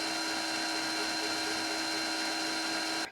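A handheld drill spins steadily while twisting wire into a tight Clapton coil for vaping, making a continuous high whirring hum with no voices, cutting off abruptly at the very end.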